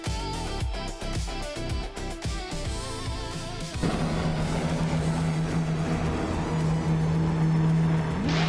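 Vintage Formula 1 race cars, including a 1950 BRM Type 15, roar off the line at the Dubai GP in a racing video game. Several engines rev and shift in quick bursts, then a sustained loud drone takes over.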